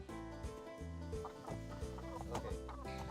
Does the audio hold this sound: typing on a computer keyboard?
no